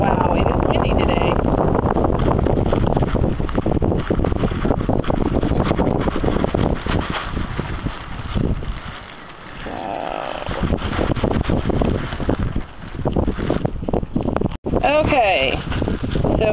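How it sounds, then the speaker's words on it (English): Strong outdoor wind buffets the microphone in a steady roaring rumble with gusty swells, easing briefly before surging again, and a voice speaks faintly under it. "it is windy today"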